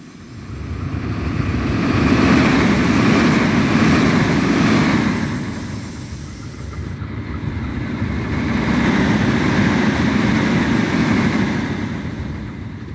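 German ICE high-speed train in Train Simulator, with a steady, loud rumble and rolling roar that swells and fades twice as it runs, with no voices.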